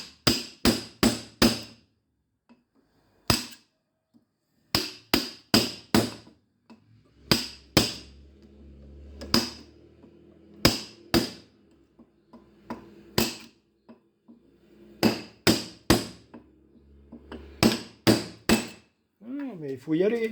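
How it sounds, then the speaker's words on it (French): Chisel struck repeatedly with a hammer to break apart a large iron transformer, sharp metallic blows landing in quick bursts of three or four with pauses between, close and loud, with faint scraping and low background noise in the gaps. "je vais prendre peut-être le burin"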